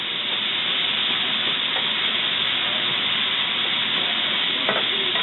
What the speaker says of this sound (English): You hear that all sizzling up good here.